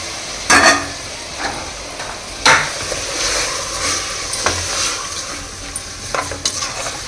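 Rice being added to fried vegetables in a pan for Mysore vegetable pulao and stirred, with steady close sizzling, a few clanks of the spoon against the pan, and scraping throughout.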